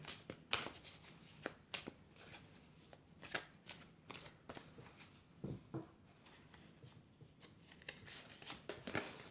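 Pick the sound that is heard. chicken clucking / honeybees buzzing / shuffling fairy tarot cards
shuffling fairy tarot cards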